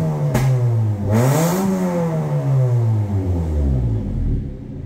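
Close and loud, a remapped automatic Honda Brio fitted with a full-system exhaust and replacement muffler revs up hard, holds a raised note, then slowly drops back toward idle.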